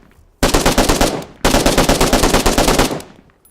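An RPK 545 machine gun from the Global Mobilization video game mod fires two loud, rapid automatic bursts of about a second each, separated by a brief pause, with no talking.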